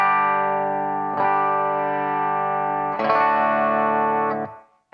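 A Steinberger Synapse guitar plays clean, ringing chords with the piezo and magnetic pickups blended and the high end rolled off, three sustained strums close up, the last one cut short.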